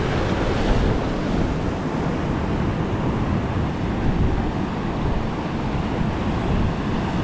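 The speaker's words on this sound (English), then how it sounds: "the waves got a little antsy on me" Ocean waves wash steadily over a coral beach and tide pools at South Point, Hawaii, a loud continuous roar of surf mixed with wind buffeting the microphone, with no voices.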